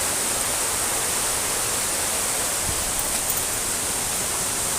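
Dumalabdab Falls pours in a steady, loud, broadband rush of falling water that stays close and constant throughout, with no voices over it.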